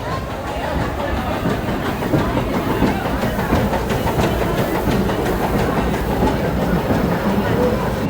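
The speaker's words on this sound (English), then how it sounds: "Train." A train rolls past nearby at Disneyland, a steady loud rumble with rhythmic clacking of wheels on rails, and some faint voices mixed in.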